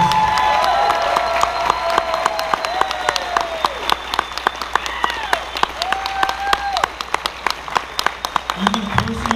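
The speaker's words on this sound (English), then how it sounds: "Big round of applause for all the people that make Megaplex exist." Loud, sustained audience applause with scattered cheers and whoops fills a convention's closing ceremony, the crowd clapping steadily throughout with some voices rising over it.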